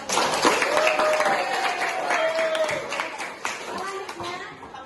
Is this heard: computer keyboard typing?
no